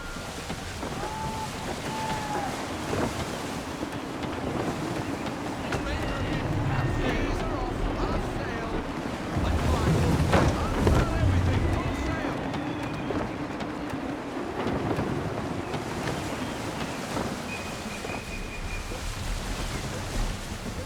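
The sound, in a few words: gusty wind and sailing ship at sea in Assassin's Creed 3 video game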